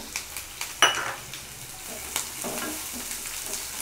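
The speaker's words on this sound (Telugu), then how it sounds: "కొంచెం లైట్గా ఫ్రై అవనిచ్చి దీంట్లోనే ఈ ఉల్లిపాయ ముక్కలు కూడా వేసుకొని" Onion pieces frying in oil in a pan for a green peas and tomato curry, a steady soft sizzle with occasional stirring scrapes and light clicks, close and moderate in level, no talking.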